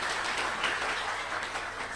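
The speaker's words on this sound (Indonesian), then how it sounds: "Tepuk tangan dong" Audience clapping during a spiritual lecture, a steady, fairly loud burst of many hands clapping that fills the whole moment with no talk over it.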